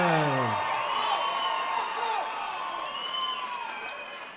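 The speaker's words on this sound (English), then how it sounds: "Give a big round of applause for Manny" A crowd at a boxing match cheers and whoops for boxer Manny Lopez, with loud, sustained voices and shouts that fade slightly toward the end.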